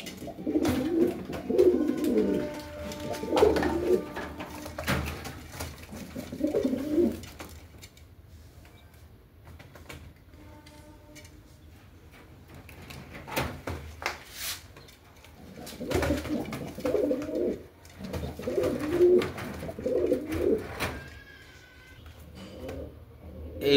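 Lahori and magpie pouter pigeons, about two years old and large, coo close by in bursts of deep rolling calls, separated by quieter stretches with occasional clatter from a cage door or drawer.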